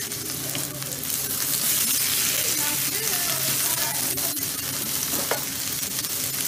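Fried rice for nasi goreng, with chicken, is stirred in a hot pan, giving dense, continuous sizzling and frying with scraping stir strokes, close and loud throughout.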